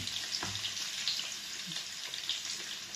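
Onion dropped into hot oil while cooking bitter gourd with egg, giving a soft, steady hissing sizzle with small pops, fairly faint and close.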